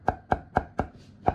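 A kitchen knife chops garlic on a cutting board, with five crisp, evenly spaced thuds at a steady rhythm and nothing else heard.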